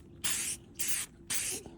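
Three short, loud bursts of hissing spray coat a slate coaster, each about a third of a second long with brief quiet gaps between them.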